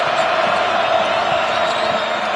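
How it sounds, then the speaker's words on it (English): Dense, continuous roar of a basketball arena crowd during a college men's game between Alabama and Missouri, loud and sustained with no clear breaks. "Crowd's back."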